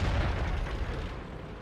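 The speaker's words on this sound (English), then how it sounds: "I get shot in the back of the turret by the T-54E1." A tank shell slams into the back of the turret in World of Tanks, a loud, dull explosive boom that opens the moment and then fades into a rumbling tail.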